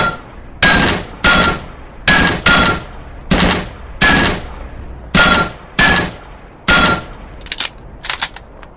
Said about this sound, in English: Come on, shoot down the targets.